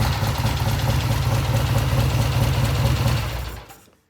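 A vintage British motorcycle engine idles steadily with a deep, throbbing low rumble, close and loud, then cuts off and fades to silence near the end.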